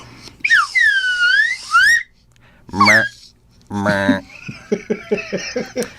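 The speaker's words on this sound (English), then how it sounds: "Do not stop that slide whistle." A slide whistle on a podcast swoops up and down in long, loud, wavering glides, then gives way to people talking and laughing, with short bouncy bursts near the end.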